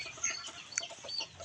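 Live chickens in a coop give soft, scattered clucks and brief calls, several overlapping at moderate distance amid low background rustle.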